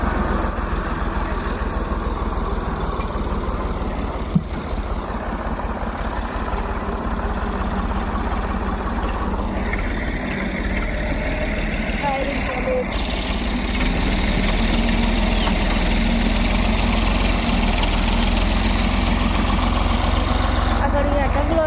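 A tractor engine idles on a village farm in Kutch, giving a steady low rumble throughout that grows slightly louder in the second half.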